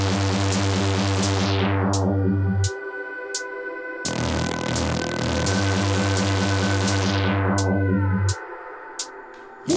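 Jump-up drum and bass track recreation plays loudly, with a heavily filtered bass line sweeping down, a break, then the distorted groove returning amid sharp percussive hits, with no talking.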